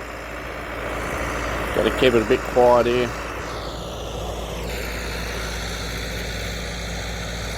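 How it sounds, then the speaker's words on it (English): Tractor engine running on a rural property, a steady low rumble droning throughout, with someone speaking quietly over it. "that's the tractor going"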